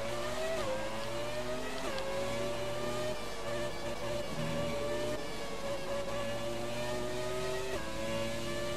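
Retro Formula 1 car engine in F1 2017, likely a Williams, screams loudly and continuously at high revs, with gear changes shifting the pitch up and down and no talk over it.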